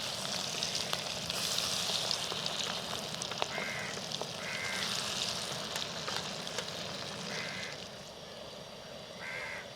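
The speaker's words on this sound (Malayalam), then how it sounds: "അതും കൂടി നമുക്ക് വറുത്തെടുക്കാം." Beef sizzles and crackles in hot oil at close range in an outdoor village kitchen, while a few crow caws sound faintly in the distance.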